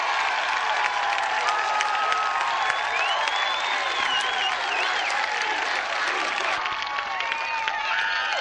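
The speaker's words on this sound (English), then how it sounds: "I'd like everybody to give a big round of applause" Sustained, dense applause from a large audience at a 1989 Rancho Chico Days parade and costume awards ceremony, steady and loud throughout with some whistles and cheers mixed in.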